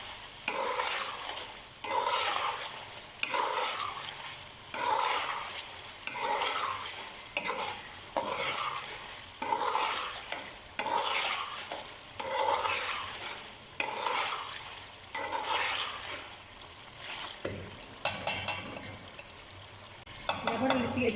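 Spinach and mutton are stirred through spices in a pan, with a rhythmic run of scraping stirs and a soft frying sizzle underneath, ending in a few clattering utensil knocks.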